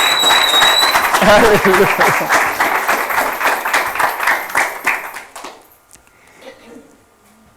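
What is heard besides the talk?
congregation applauding in church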